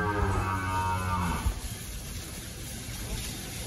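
Cattle moo loudly and close on a ranch as frightened cows are herded into a pen, with a long low call fading into open outdoor ambience.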